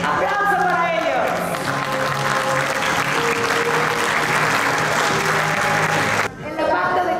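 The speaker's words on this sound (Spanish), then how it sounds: "Aplauso para ellos." Applause from an awards-ceremony audience, dense steady clapping that fills the room for several seconds, with a voice talking over it, then breaking off briefly before resuming.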